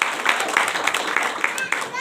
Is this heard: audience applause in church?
yes